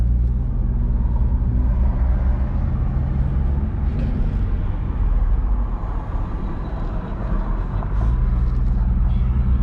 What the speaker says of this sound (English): so first drive in the Nissan SKYLINE GTR